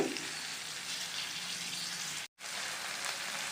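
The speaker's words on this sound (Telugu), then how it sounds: "వేసుకుని కొద్దిగా ఫ్రై చేసుకోవాలి ఒక రెండు నిమిషాలు" Dried fish and garlic frying in a pan, a dense steady sizzle like rain on a surface, close and loud, briefly cut off near the end before resuming.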